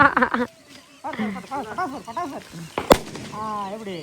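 A single sharp Diwali firecracker bang bursts out amid people chatting nearby, sudden and loud against the voices.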